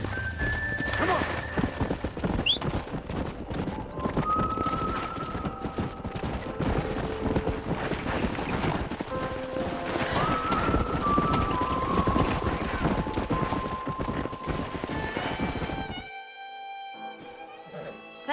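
Horses clip-clop with steady, rapid hoofbeats in the video game Red Dead Redemption 2, running over ground with occasional whinnies and wind, then cutting off near the end.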